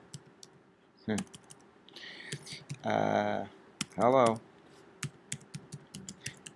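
Computer keyboard typing in bursts of close, crisp key clicks, with a person speaking in between the runs of keystrokes.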